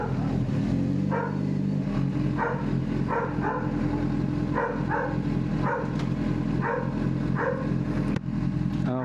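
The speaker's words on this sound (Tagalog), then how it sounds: "At sinasalubong na tayo ng mga aso natin." Dogs bark to greet riders as they arrive, with a steady engine rumble running underneath. The barks come in short, irregular bursts of two or three, at moderate distance, and no one speaks.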